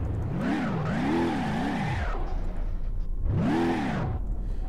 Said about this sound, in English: Good old American cars.